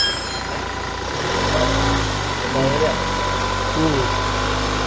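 A Hyundai Starex diesel engine being worked on for MAP sensor and turbo actuator issues rises from idle into a loud, steady rev with rumbling low tones, the revs swelling and easing slightly as the engine is held up under workshop conditions.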